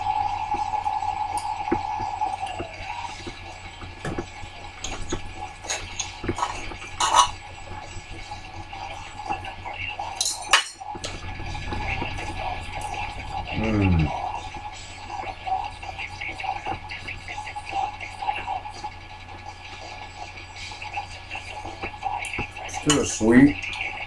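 Knife and fork cutting a pork chop on a plate, repeated close scraping and clinking of metal cutlery against the dish, with brief talk alongside.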